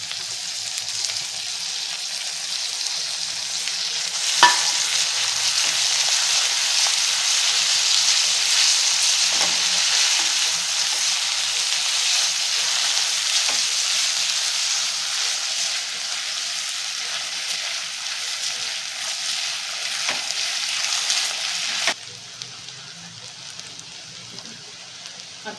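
Chopped tomato sautéing with browned onions in a pan for chicken sukka masala, a steady close sizzle with occasional stirring clicks, continuous for about twenty seconds before the frying dies back near the end.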